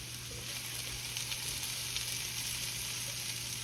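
Yellow onion frying in a pan with very little oil, giving a steady, close sizzle throughout with no talking.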